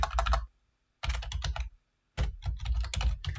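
Typing on a computer keyboard, heard as three close, quick bursts of crisp key clicks separated by short pauses.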